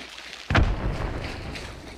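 A single grenade blast in Hunt: Showdown booms suddenly, with a heavy low thud trailing into a rumbling decay over the next second or so.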